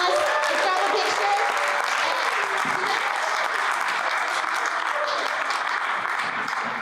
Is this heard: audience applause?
yes